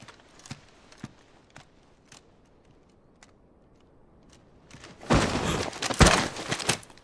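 Horse hooves clip-clopping in the video game Final Fantasy XVI, sparse distinct knocks spaced about half a second apart, then a louder dense burst of clatter and rustle toward the end, no talking.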